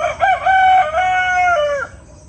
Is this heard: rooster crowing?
yes